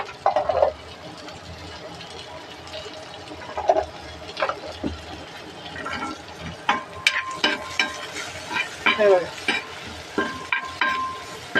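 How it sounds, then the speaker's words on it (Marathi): A chutney masala is stirred in a frying pan over a soft sizzle, with repeated close scrapes and clacks of the spoon against the pan that come in irregular bursts. "आता हे चांगलं हलवून घ्यायचं"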